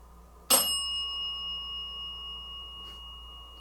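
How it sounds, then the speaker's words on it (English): A single bright strike of a small bell rings out inside an old theater. Its high, clean tone sustains and slowly fades over several seconds against a quiet background. "somebody's having a little bit too much fun with the bell."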